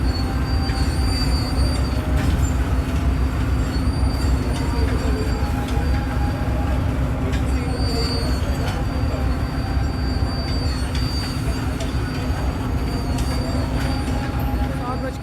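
A passenger express train hauled by locomotive ZC26-407 rolls into Lahore Junction railway station, a loud, steady rumble of wheels with metallic squeals throughout, near and continuous in summer heat.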